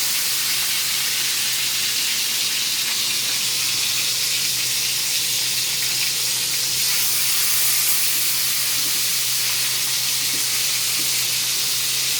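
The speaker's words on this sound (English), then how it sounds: "So we're gonna do this in the pan" Ocean perch pan-frying, giving a steady, loud, close sizzle with a broad hiss that runs unbroken and stays even the whole time, with no voices over it.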